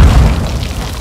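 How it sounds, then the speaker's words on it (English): A flash grenade going off in Call of Duty Modern Warfare II DMZ mode, a single loud, deep boom that fades out over about a second. "Throwing flash grenade!"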